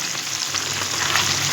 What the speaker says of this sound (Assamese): ধুনীয়াকৈ মাছটো ফ্ৰাই কৰি ল'ম